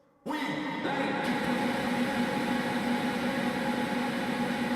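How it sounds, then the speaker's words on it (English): A dense, steady wash of sustained tone swells in abruptly and hangs without changing, like a frozen reverb pad holding a single smeared chord. "this basically gives like an instant pad ambience effect"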